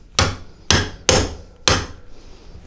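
A screwdriver forced against a tab on old brake pads: four sharp, evenly spaced metallic knocks ring out close and loud, each decaying quickly into a quiet workshop.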